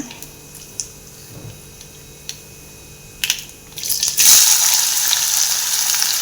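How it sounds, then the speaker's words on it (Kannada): Medium-sized chopped onion hits hot oil in a pan for a chickpea dish after quiet, spaced crackles of tempering, bursting into a loud, sustained sizzle that continues to the end. "ಈಗ ಅದಕ್ಕೆ ಒಂದು ಮೀಡಿಯಮ್ ಸೈಜಿಂದು ಈರುಳ್ಳಿ ಸೇರಿಸ್ಕೊಳ್ಳೋಣ"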